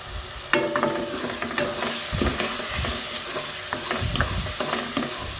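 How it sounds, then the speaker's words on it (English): Tomatoes and beef for a cabbage and beef dish simmer and sizzle in a pan, a steady close frying hiss broken by repeated scraping stirs throughout, with no voices. "I'm doing that for tomatoes to simmer."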